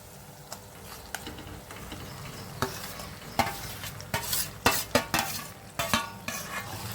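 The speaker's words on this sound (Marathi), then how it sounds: "ते आता व्यवस्थित मिक्स करून घ्यायचं आहे" Steamed, mashed ridge gourd being stirred into a sizzling mixture for a Khandesh-style bharit, the spoon scraping the pan in irregular strokes that grow louder and quicker toward the end, close up with a faint frying hiss and no voices.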